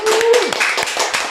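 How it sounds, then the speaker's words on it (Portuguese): Audience applause at a live podcast taping, a brief burst of dense clapping under overlapping voices. "Então eu quero pedir um forte aplauso para Roberto Chiniachik."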